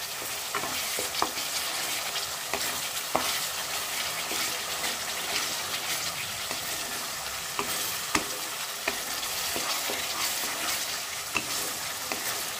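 Chicken and spinach fry in a pan for palak chicken, giving a steady close sizzle broken by regular scraping clicks of stirring, with no voices.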